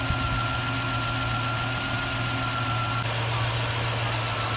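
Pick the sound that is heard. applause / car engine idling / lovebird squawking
car engine idling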